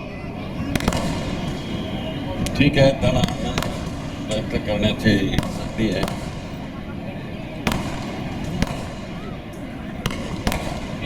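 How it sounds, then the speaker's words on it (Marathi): Fireworks and firecrackers go off at an outdoor political speech, sharp cracks and pops scattered irregularly, some loud and close, under a man addressing the crowd over a public address system. "कृपया आतिषबाजी थांबवा ते फटाके थांबवा"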